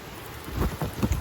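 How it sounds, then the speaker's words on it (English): Heavy rain pouring outdoors near a mountain hut during a massive thunderstorm, a dense steady wash of close, loud rainfall with low rumbling gusts building through it. "it's raining quite hard"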